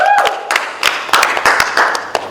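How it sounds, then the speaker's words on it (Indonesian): A small audience claps for guests on a talk show about stage production management. A handful of scattered, fairly loud claps come in an uneven rhythm after a brief voice at the start. "Tepuk tangan dong"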